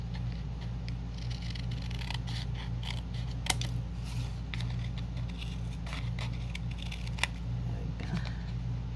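Scissors snip through a playing card being cut into a tag, small repeated clicks and crisp snips close up over a steady low hum, with someone talking partway through.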